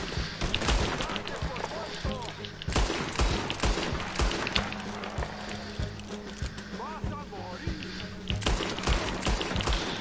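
Bursts of gunfire ring out in the Red Dead Redemption 2 video game, loud and repeated over horse hooves and busy game action, with someone talking over the shots.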